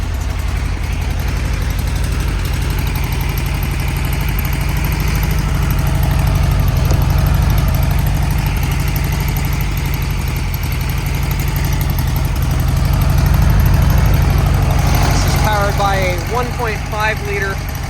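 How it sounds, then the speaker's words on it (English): A 1969 Volkswagen Beetle's 1.5 liter flat-four engine idles steadily under slight load, running a little rough, with a continuous low rumble close by and brief chirping sounds near the end. "The engine's under a little bit of load and it's not wanting to run quite right."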